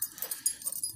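A young dog whimpers in short, faint yips outdoors on an early-morning bike ride. The whines come in brief bursts over light background noise, with no talking.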